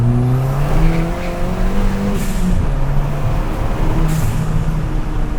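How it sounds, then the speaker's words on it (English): A Ford Fiesta ST with its backbox deleted accelerates hard, its intake and exhaust roaring as the pitch climbs through the gears, with short dips at each shift; loud and close from inside the car. "You can still hear that intake."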